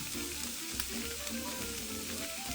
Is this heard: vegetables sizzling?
yes